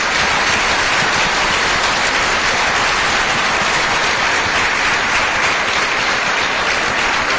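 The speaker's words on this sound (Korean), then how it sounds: "darle un aplauso de gloria al Señor" A church congregation in Guatemala gives loud, sustained applause to the Lord, an unbroken roaring wash of many hands clapping throughout, close and uniform with no talk heard.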